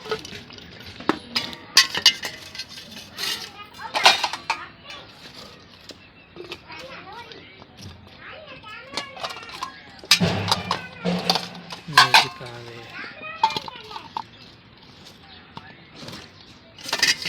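Fruit such as dates being placed onto plates while iftar is prepared at home during Ramadan, with intermittent clinks of dishes and cutlery scattered through near, lively family talk.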